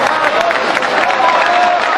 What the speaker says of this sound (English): Well, the crowd appreciating that run